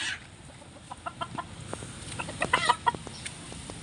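A sick chicken being treated with an herbal remedy clucks in a short run of soft, close calls that grow busier toward the end, over a quiet outdoor background.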